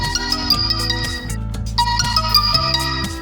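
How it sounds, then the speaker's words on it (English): Short melodic chime from a phone's Binance app notification, bright repeating tones over a steady low backing, alone and fairly clear. "I just got a notification from Binance, deposit successful."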